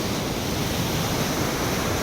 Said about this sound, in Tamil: மழையின் காரணமாக காட்டாற்று வெள்ளம் அடித்து செல்லும் காட்சி